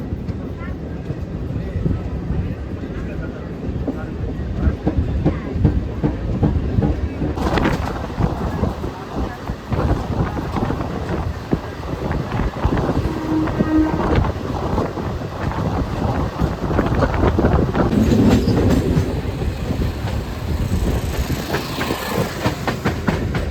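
Tirupati MEMU Express train on the Tiruttani–Renigunta line, a loud continuous rumble of wheels on rails with wind buffeting the microphone, steady throughout with a rattling shift partway; a voice speaks over it.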